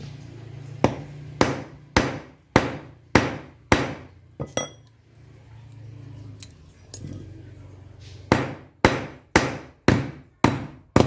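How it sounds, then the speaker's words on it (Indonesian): Sharp hammer blows strike metal scissors in quick, regular series, with a pause in the middle before another rapid run of strikes. "oke kita akan palu lebih keras sedikit"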